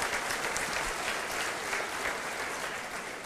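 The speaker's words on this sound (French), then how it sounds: "Et oui, vous avez raison de nous applaudir." Steady, dense applause from a large audience at a formal speech event, continuous and fairly loud throughout with no voices on top.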